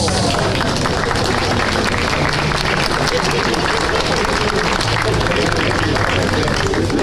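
A crowd at a gala concert for a school alumni band claps loudly and continuously, a dense steady roar of applause mixed with background chatter that lasts throughout.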